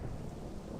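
Thunderstorm in the video game Armed and Dangerous, a brief dense rumble of thunder with rain hiss, steady and loud throughout with no voices.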